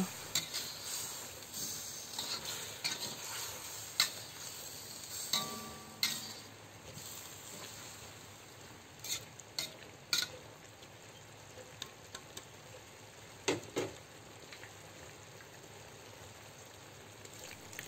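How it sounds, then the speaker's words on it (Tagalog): Chicken adobo with pineapple being stirred in a pan: a soft, low sizzle with scattered sharp clinks and scrapes of a utensil against the pan. "Pagkatapos ng 10 minuto, haluin natin ito."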